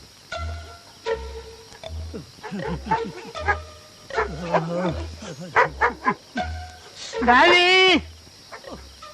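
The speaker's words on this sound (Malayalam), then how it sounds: "ഈ പട്ടി എന്തിനാ അങ്ങനെ കിടന്ന് കുരയ്ക്കുന്നത്" A dog barks repeatedly nearby in sharp, uneven bursts, building to a longer, higher-pitched yelping cry near the end.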